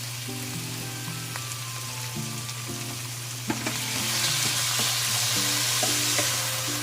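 Boneless chicken seasoned with ground black pepper cooking in a pan for creamy sopas, with a continuous loud sizzle that swells midway, a steady hum and tonal music running underneath.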